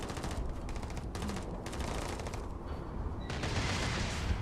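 Rapid bursts of automatic gunfire from enemies in the sci-fi game Starfield, several volleys crackling in quick succession with brief pauses between them, close and steady, no talking.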